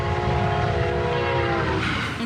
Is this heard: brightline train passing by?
yes